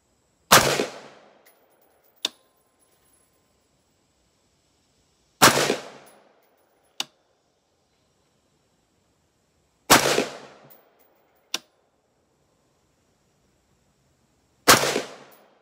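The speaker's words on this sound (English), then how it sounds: "test fire it a couple of times just so you can see it working on a firearm" An AR rifle fitted with a Holosun HE515GM-GR mini red dot sight fires four sharp, loud shots several seconds apart outdoors, each followed by a brief decaying echo and a faint metallic clink, with no talk.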